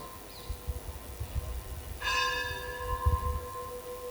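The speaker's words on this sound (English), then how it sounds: "I don't understand anything till the bell stops ringing." A single bell strikes during a religious lecture gathering, leaving a clear ringing tone that lingers over quiet room noise and faint shuffling.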